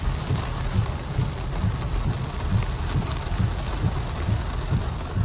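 Heavy rain pounds outside a window in Big Bear, California, a dense steady roar with low rolling thunder pulsing underneath throughout, no voices.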